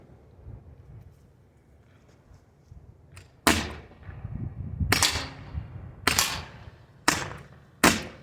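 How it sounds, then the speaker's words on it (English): A Byrna HDR CO2 revolver fires five sharp, loud cracks in fairly quick succession, each snapping out of quiet outdoor background noise with a brief fading tail. "It's a revolver. You basically just hit that part there. I've got a CO2 in, and this sucker hits hard."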